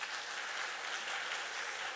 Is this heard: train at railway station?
no